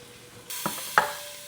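Andouille sausage sizzling in a pan: a steady bright frying hiss with a couple of sharp pops or stirring clatters, close and moderately loud, without talk.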